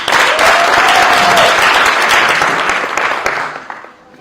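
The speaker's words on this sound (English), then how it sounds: "please give them a round of applause" Loud, dense applause fills the room at a talent program's graduation ceremony to honor the team, holding strong before fading away over the last second.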